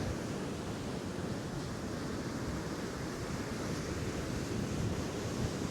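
Gusty wind buffets an open beach in Northumberland beside a building sea, a steady, loud broadband roar with surf blended in, continuous and without pauses or voices.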